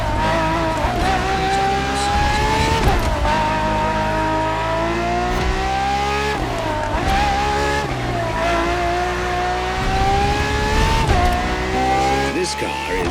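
A Ferrari FXX K racing in The Crew Motorfest roars loud and near, its engine note climbing through the revs and dropping sharply at each gear shift, repeated several times, with a voice talking over it.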